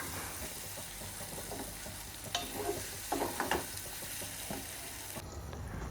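Mango sheera cooking in a pan on low heat, a quiet continuous sizzle and crackle with a few soft stirring scrapes of a spoon, faint and close with no voices.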